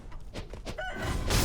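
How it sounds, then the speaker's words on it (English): Roosters crow and cluck in the game Sekiro, several short calls close by with soft thuds between them, ending in a longer, louder crow. "I forgot about the roosters here."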